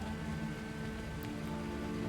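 Steady pouring rain hisses continuously throughout, a dense wash of drops with no voices and no clear thunder, forming a constant ambient bed for a tabletop fantasy adventure scene.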